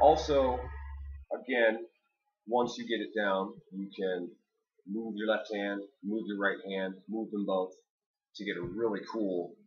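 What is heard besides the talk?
No distinct noise like a dog, phone or traffic.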